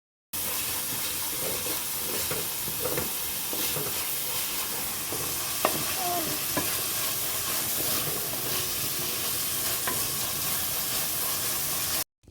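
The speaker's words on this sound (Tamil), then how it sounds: "நம்ம வந்து வெங்காயத்தை வந்து நம்ம வந்து வதக்கி விட்டுக்கலாம்" Onions sautéing in a pan for Kerala-style fish curry, a steady, dense hiss that runs unbroken for about twelve seconds with a few faint knocks mixed in.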